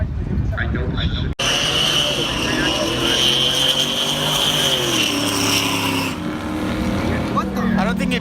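A supercharged Dodge Demon drag car launches at Irwindale Speedway at night: a loud engine roar bursts in abruptly and holds with rising, sweeping tones, while people talk over it.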